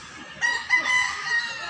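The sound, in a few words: rooster crowing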